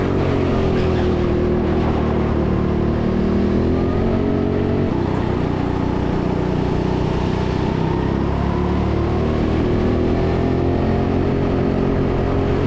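Several go-kart engines drone and rev together as the karts race bunched up around the indoor TeamSport Sheffield track, a loud, continuous, shifting engine roar with no speech.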